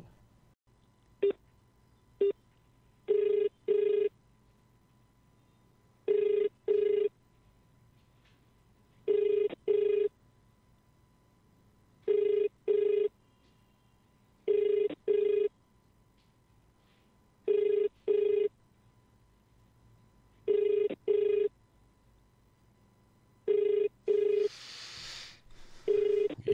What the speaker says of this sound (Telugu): ఏంటి అన్న ఫోన్ లిఫ్ట్ చేయట్లేడు